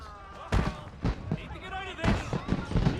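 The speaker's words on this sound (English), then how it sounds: "Those fireworks are truly impressive" Fireworks in Assassin's Creed Rogue Remastered go off as several booming bursts with crackling tails, loud and irregular over ambient game sound, and characters talk between the blasts.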